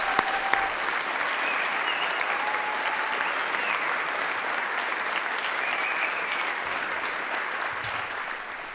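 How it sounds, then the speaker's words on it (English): An audience at a 2018 State of the City address applauds the mayor with sustained, dense clapping from a large crowd, steady throughout and fading slightly at the end. "So let's give our mayor another round of applause."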